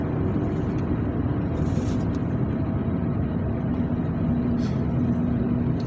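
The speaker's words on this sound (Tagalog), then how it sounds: "Traffic bala, traffic sa stoplight." Steady road traffic idling and rolling at a stoplight in West Bay, Doha, Qatar, a continuous broadband engine rumble with a faint hiss of brakes, constant in level throughout, no talk.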